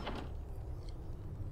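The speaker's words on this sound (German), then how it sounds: "Dann öffnen wir mal diese große Tür." A large door opens in the video game Icewind Dale, a low grinding, rumbling slide that holds steady for about a second and a half, with no one speaking over it.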